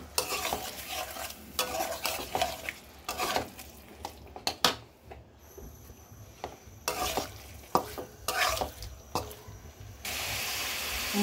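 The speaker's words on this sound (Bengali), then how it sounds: "তরকারিতে মাছ দিয়ে দিব।" Pieces of rui fish frying in a spiced curry with bottle gourd, stirred in a pan with frequent scraping and clattering strokes over a steady sizzle.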